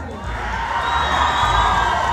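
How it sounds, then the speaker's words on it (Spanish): A festival crowd at a bull fiesta in Sarchí cheers and applauds, a steady dense roar of voices and clapping that swells slightly and holds throughout. "aplausos para el de verde."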